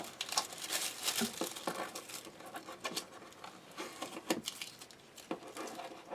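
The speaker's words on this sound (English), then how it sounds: "This one's going to be a little harder to unwrap." Paper gift wrap being torn and worked loose around the sides of a package, a steady run of close crinkling, rustling and tearing with short louder rips, no talking.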